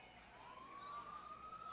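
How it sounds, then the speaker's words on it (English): A faint ambulance siren wails in the distance during a high school baseball game, its tone slowly rising as it passes beneath a low background hum. "And there goes an ambulance."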